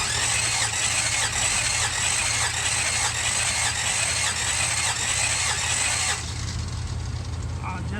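A 1966 Buick Riviera GS engine with low compression cranks without starting during a cylinder compression test, a steady rhythmic whirring starter drone that loud and close runs unbroken then drops to a duller hum near the end.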